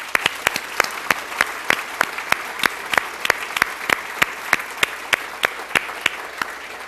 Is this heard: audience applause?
yes